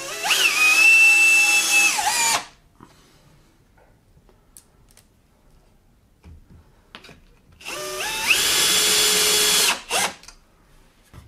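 A cordless power drill drives 16 mm screws into a wooden jig for a disc sander: two loud whirring bursts that climb and then bog down as each screw seats, separated by quiet handling noises.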